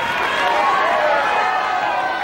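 A ballroom competition audience at a championship dance event shouts and cheers continuously, a dense, loud wash of many voices calling out, with no clear gaps.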